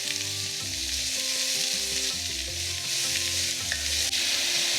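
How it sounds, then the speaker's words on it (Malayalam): Sliced medium onions sauté in oil for a Kuttanadan-style Kerala duck curry, giving a steady, close frying sizzle with a low, stepped background hum throughout. "ഈ എണ്ണയിൽ തന്നെയാണ് ഞാൻ കറിക്കുള്ള സവോള വഴറ്റിയെടുക്കുന്നത്."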